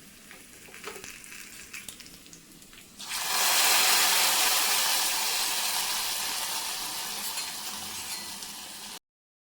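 Hot tempering poured into a raw banana curry, starting with a few quiet clinks and stirring, then a sudden loud sizzling hiss that bursts up close and slowly fades while staying strong to the end.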